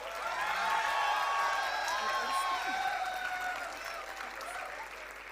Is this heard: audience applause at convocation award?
yes